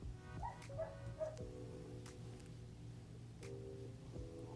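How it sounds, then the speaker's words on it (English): A dog gives a few short yips and barks, faint and somewhat distant, set over a steady low hum with sustained tones in the background. "This dog interrupted my sentimental moment."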